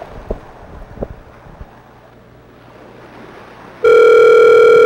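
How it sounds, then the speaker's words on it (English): A telephone call's ringback tone sounds loudly near the end, a steady electronic tone that cuts in sharply after several seconds of quiet rustling and soft wind noise. "I'm trying to get them to answer the phone"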